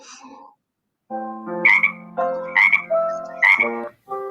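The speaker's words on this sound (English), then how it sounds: "That was a frog." A frog croaks loudly and close, a run of three or four harsh, rhythmic croaks separated by short pauses, with no talk over it.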